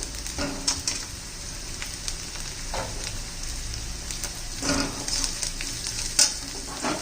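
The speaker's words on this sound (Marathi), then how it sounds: "परतून घेऊया व्यवस्थित छान असा वास सुटलाय ना लसूण आणि हिरव्या मिरचीचा" Garlic and green chilies sauté in a pan for a drumstick-leaf bhaji, with a steady close sizzle and a few distinct scraping stirs of a spoon against the pan, no voices.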